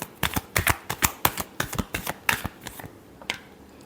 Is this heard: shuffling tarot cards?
yes